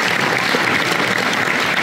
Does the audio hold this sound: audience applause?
yes